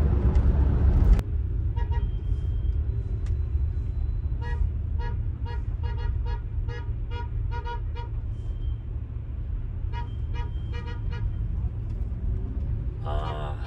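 Repeated car horn honks in street traffic in Iran, a rhythmic series of short toots sounding over steady engine and road rumble, with a louder bang at the start.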